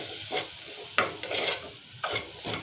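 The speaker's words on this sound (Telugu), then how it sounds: "మంచిగా అన్నీ నూనెలో వేసి కలపాలి" Mutton paya masala with garam masala and coriander powder is stirred in oil, a soft sizzle under a few brisk scraping strokes of a spoon, close by.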